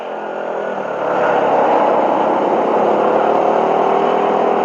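A vehicle engine warming up, a steady close droning hum that swells slightly after the first second and then holds an even, loud tone, with no talking.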